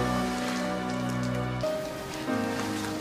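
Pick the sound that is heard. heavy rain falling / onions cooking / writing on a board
heavy rain falling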